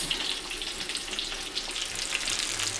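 Breaded schnitzel coated in cornflake crumbs and sesame seeds frying in slightly dirty, foaming oil, giving a steady close hiss and crackle that runs evenly throughout with no talking.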